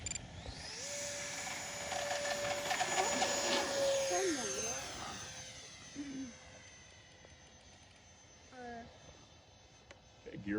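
A Freewing PJ50 RC jet taking off in an open field, its electric ducted fan whining high and loud, then fading into the distance, with people talking nearby.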